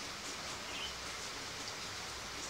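Heavy rain pours down steadily in a dense, roaring hiss at a home where much of the space lacks walls, loud and unbroken throughout with no voices.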